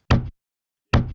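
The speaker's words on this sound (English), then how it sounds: "that's the sound of the closet door closing" A closet door in a hotel room shuts twice with sharp, solid thuds, each a short knock followed by silence, close and loud.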